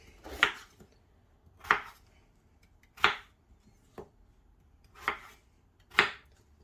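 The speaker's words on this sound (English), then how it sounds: "I'm going to chop one more potato up" Six sharp knife chops through potato on a cutting board, spaced roughly a second apart, each a crisp close thud with a brief bright edge, over quiet kitchen background for roast potatoes in an air fryer.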